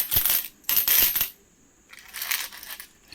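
Metal coins clatter and jingle in two loud bursts of dropping and handling, followed by a quieter rattle of coins shifting, close and with no talk.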